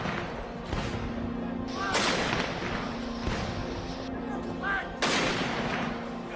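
Heavy cannon blasts boom out one after another at spaced intervals in a military funeral gun salute, each followed by a long rolling echo, with faint voices in the background.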